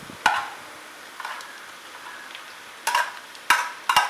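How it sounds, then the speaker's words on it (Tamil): Garlic and marinated fish fry in a pan while being stirred, with a hissing sizzle broken by several sharp scrapes and knocks of the spatula, close and clear with no talking. "நல்லா வதங்கினதுக்கு அப்புறமா பெசரி வச்சுருக்க மீனை இதில் போட்டு அதையும் நல்லா பெரட்டி விடுங்க"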